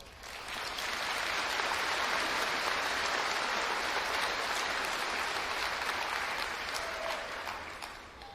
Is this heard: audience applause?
yes